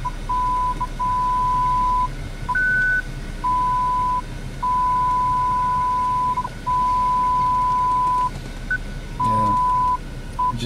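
A BMW 535 Xi parking sensor gives steady electronic beeps, some short and some held for over a second, separated by brief gaps, over a low running-engine hum.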